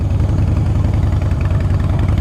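A Harley-Davidson Breakout motorcycle with the 103 engine idles close by, a loud, steady, low throbbing rumble with an even pulse and no voices over it.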